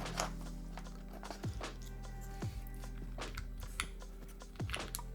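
Keystrokes clack steadily on a custom mechanical keyboard fitted with GMK stabilizer bars, a crisp close-up series of taps with a few deeper thocky strikes among them, no voices.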